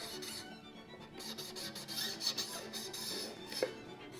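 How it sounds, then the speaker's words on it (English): A cloth is rubbed along a viola fingerboard to clean it, producing a soft continuous close rasping swish with fast back-and-forth strokes and a faint squeak near the end. "just rub the fingerboard like so"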